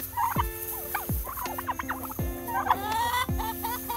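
Turkeys gobble loudly at a farm, several rippling calls repeated at a steady pace, close and clear, with other fowl faintly clucking in the background.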